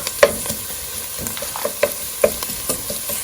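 Onions sautéing in a pot for rice pilaf: a soft, steady sizzle with several close stirring scrapes and clicks of a spoon against the pot, no speech.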